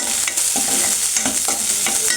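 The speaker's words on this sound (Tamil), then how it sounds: "இது வெங்காயத்தை கொஞ்சம் லைட்டாக வதக்கி அரைச்சிக்கலாம்." A single onion sizzles and sautés in hot oil for mushroom gravy, a steady loud frying hiss with a few soft stirring scrapes, no voices.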